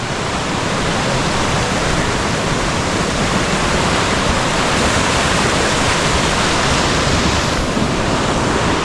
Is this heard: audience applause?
no